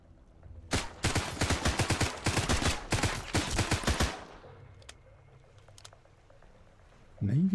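Rapid automatic gunfire in the survival video game Sunkenland, a few quick bursts of loud, close shots in fast succession, followed by fainter scattered pops and a quiet stretch.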